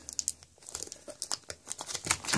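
Plastic wrapping on a Magic: The Gathering deck builder's toolkit box being torn open, close and continuous crinkling with sharp tearing bursts throughout, no talking.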